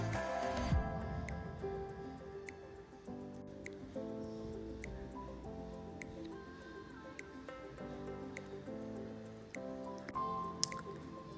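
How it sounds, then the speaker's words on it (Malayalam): Onions, green chillies and curry leaves sauté in a pan, giving a soft, continuous sizzle with wet squishes and crackles as they are stirred, heard up close. "അപ്പോൾ അതും ചേർത്ത് നന്നായിട്ടൊന്ന് വഴറ്റിയെടുക്കാം"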